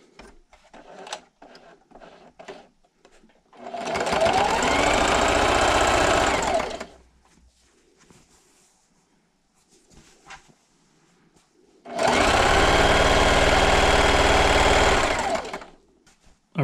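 A sewing machine runs in two loud, close bursts of a few seconds each, stitching a quarter-inch seam on a strip-pieced table runner, with quieter handling and rustling of fabric between runs.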